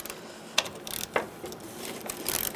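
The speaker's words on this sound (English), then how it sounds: "Using a 10mm socket, loosen this bolt." A ratchet turning a 10mm socket clicks in short bursts while loosening a fender bracket bolt on a 2011-2018 Ram 1500 pickup, with quiet, close, rapid pawl clicks and a couple of sharper metallic ticks.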